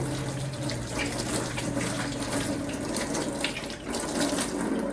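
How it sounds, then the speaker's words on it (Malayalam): Hands are washed under a running tap in a kitchen sink, with water splashing steadily and fairly close, its flow briefly changing as the hands move through it. "ഇനി നമുക്ക് കൈ കഴുകുന്ന രീതി കാണിക്കാം."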